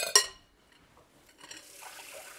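Water poured into a bowl of tomato juice while preparing stuffed peppers, a short splash and clink up front followed by a soft, quiet trickle of liquid.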